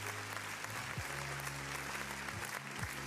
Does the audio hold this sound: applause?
yes